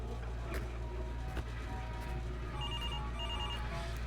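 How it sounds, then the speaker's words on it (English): A phone rings repeatedly inside a horror carnival video game, a steady electronic ring over a dense, droning carnival backdrop with no talk. "If I don't pick up your singing phone call, you're just gonna keep ringing it the whole night."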